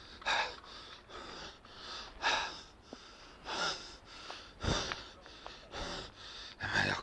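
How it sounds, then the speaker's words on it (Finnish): Heavy, rhythmic panting from someone walking uphill: about a dozen loud, breathy gasps and snorting exhales in a steady cycle, close to the microphone, with no speech between them. "Pitää muistaa huohottaa, kun on niin läski."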